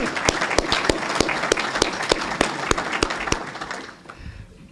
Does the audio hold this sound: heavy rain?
no